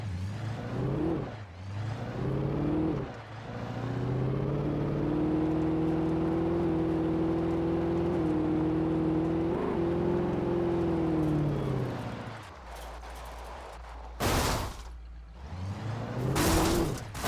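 A car driving in Alan Wake, its engine holding a steady drone with slight pitch swells, then two loud sharp crashing impacts near the end; no talking.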